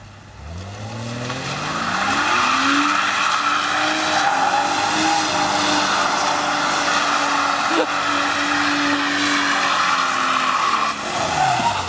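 A drift car slides across a soaking wet car park, its engine roaring steadily with revs that rise and fall while the tires squeal and skid continuously, loud and close for several seconds.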